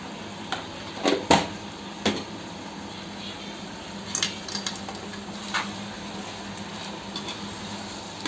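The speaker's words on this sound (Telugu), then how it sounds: "చూడండి, పసుపు వేసుకొని ఒక 1 టైం ఇలా కలపాలి." A spoon stirs chicken gravy with turmeric in a pot over a low sizzle, making scattered scrapes and knocks against the metal at an unhurried pace, close and moderately loud.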